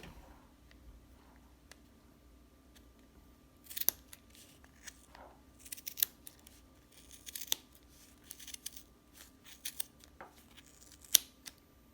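Scissors snip through yarn wound on a Clover pom-pom maker in a series of close, quiet, crisp cuts at irregular intervals, with soft rustling of the yarn between them.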